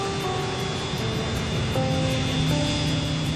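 MD-80 jet airliner engines produce a steady broad roar with a sustained whine, constant and moderately loud throughout, with no voices.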